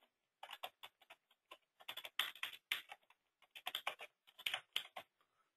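Typing on a computer keyboard, close and crisp, in quick bursts of clicking keystrokes separated by short pauses, with no talk.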